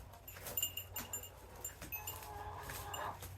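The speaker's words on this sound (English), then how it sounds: "Look at those happy goats." Farm goats bleat faintly in a few short calls over low background noise outdoors, with no one talking.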